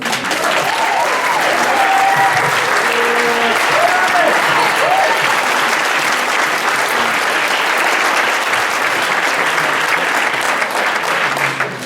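A large audience at a radio station's 30th anniversary celebration and diploma ceremony claps continuously, a loud, dense, sustained wall of applause for about twelve seconds, with a few whoops and shouts rising over it early on.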